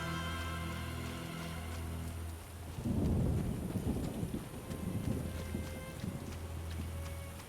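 Rain and rolling thunder in The Witcher video game: a low, rumbling thunder roll swells and fades over steady rain and wind, mixed with a sustained musical drone.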